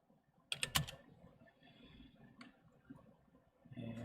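Computer keyboard typing, a quick burst of sharp clicks followed by scattered softer keystrokes, close and fairly quiet with no talk.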